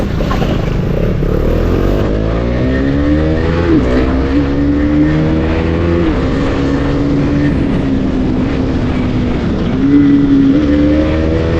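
A modified Husqvarna Svartpilen 250 motorcycle engine revs loudly and continuously, pitch climbing through several gear shifts and dipping briefly between them, with no voices.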